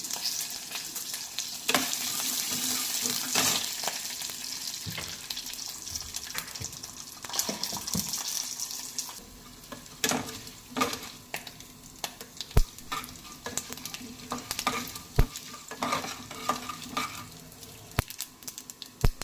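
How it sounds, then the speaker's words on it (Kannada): Chana dal frying in oil until reddish for a radish palya, a soft steady sizzle with frequent scraping and tapping of a spoon against the pan, heard close and without any speech. "ನಂತರ ಕಡಲೆಬೇಳೆ ಹಾಕಿ ಕೆಂಬಣ್ಣ ಬರೋವರೆಗೂ ಉರಿಯಿರಿ"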